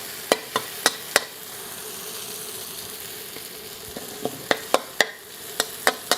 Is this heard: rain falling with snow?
no